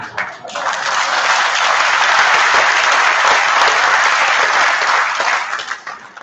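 An audience at a public meeting breaks into loud, sustained applause, a dense roar of many hands that swells and then tapers off near the end.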